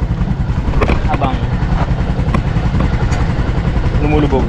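Idling engine of a black-and-red 2024 Kawasaki CT125 Bajaj motorcycle parked on its center stand in sand, a steady low rumble that stays close and even throughout, with someone talking over it.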